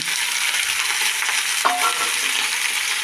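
Two small tomatoes drop into a hot frying pan with a brief bump, the steady sizzle of oil running throughout, close and fairly loud with no talking.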